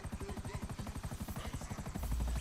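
A helicopter in a video game, heard as a steady, rapid rotor chop at a fairly low level, continuous throughout.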